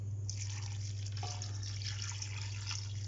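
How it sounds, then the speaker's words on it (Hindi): Water pours into a chicken karahi pot over a steady low hum, a continuous splashing trickle lasting a few seconds with no talk. "और पानी इसमें हम तकरीबन जो है ना 1 गिलास डाल देंगे"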